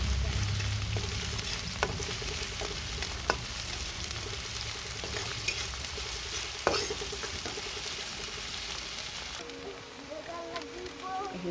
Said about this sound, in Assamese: এইখিনি তেলখিনি গৰম হৈ গ'ল। মই ইয়াত পিঁয়াজখিনি ঢালি দিম।